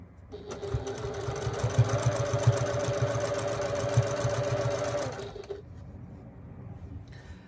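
A sewing machine stitching a 1 cm seam on a replica 1941 gasmask bag hums in one continuous run of about five seconds with a rapid needle rhythm, close up, then stops into near silence.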